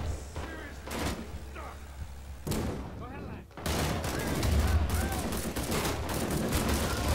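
Gunfire in Rising Storm 2: Vietnam during urban combat in Hue City, bursts of rifle and machine-gun fire, some sharp and close and others more distant, over continuous battle noise.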